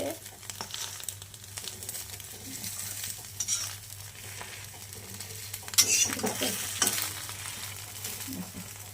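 A thick egg omelette frying in an iron pan on low gas, soft steady sizzling with spatula scrapes and metallic clinks that grow sharper and louder toward the end, a low steady hum beneath.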